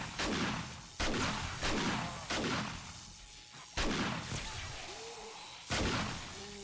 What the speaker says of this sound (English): Man, I think the M60 is better than the shotgun even when I'm spec'd into it.